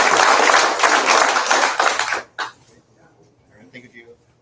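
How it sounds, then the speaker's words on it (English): Applause from a recovery meeting audience fills the opening two seconds as a dense, fairly loud wash of clapping, then cuts off sharply, leaving a quiet room with faint murmurs and small noises. "give yourself and your higher power a round of applause"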